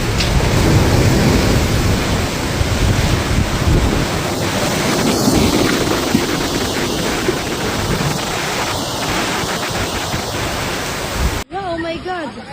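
Rough seas pounded by Typhoon Uwan in the Philippines, a loud continuous roar of surf and gusting wind buffeting the microphone, with brief voices near the end.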